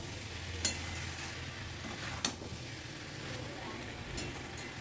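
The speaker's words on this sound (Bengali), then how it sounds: "ঢাকনা খুলে আবারও একটু চিকেনটাকে নাড়াচাড়া করে দেব।" Chicken being stirred in a pan over low heat with a spoon: a soft, steady sizzle with a few sharp scrapes and clinks of the utensil against the pan, close and fairly quiet.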